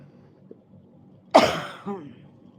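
A single harsh cough bursts out near and loud, followed a moment later by a shorter, softer second cough or throat-clear, over a quiet room background.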